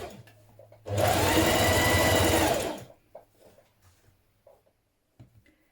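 A sewing machine runs a single burst of close, loud stitching along a blouse seam for about two seconds, then stops, leaving faint handling rustles and small bumps.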